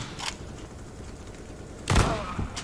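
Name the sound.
two players firing guns in the CS:GO video game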